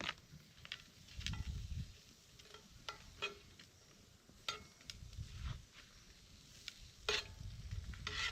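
Onions sizzling in an oiled pan set over barbecue coals, a quiet, steady crackle with scattered sharp pops and a low rumble underneath, no voices.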